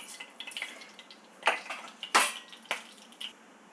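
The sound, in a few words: mustard seeds spluttering in hot oil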